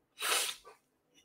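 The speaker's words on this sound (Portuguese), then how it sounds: "Nossa, vontade de espirrar de novo." A single sharp, loud sneeze bursts out, followed by a short snort-like breath and a faint trailing sound.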